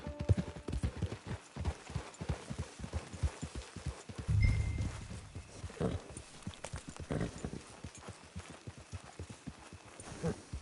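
Horse hooves clip-clopping in the Red Dead Redemption 2 video game, a steady walking rhythm of close, fairly quiet hoofbeats with a brief louder thump partway through and no speech.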